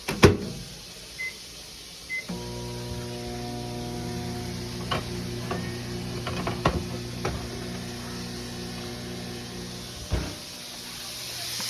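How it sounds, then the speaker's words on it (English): A microwave oven door clicks shut, then a low steady hum drones on with faint clicks and rattles as food warms for about a minute, ending with another latch sound. "Then you're gonna warm this up for about a minute in the microwave."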